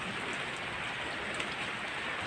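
Steady, even rain falls on an outdoor surface, a continuous close hiss through the whole stretch with no voices, during work on a Mitsubishi L300 van with a 4D56 engine.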